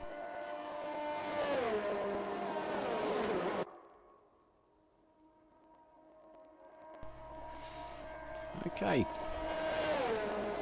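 F1 2021 Formula One cars drive the warm-up lap at Spa in Belgium, their engines droning steadily and loudly, with a brief quiet gap before the engine noise swells back with a rising whine and a pass-by sweep, under a commentator's talk.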